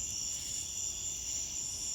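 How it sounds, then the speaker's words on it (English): A cicada sings up close in a loud, steady, continuous buzz with no break and no talk over it. "Yeah, that's a cicada."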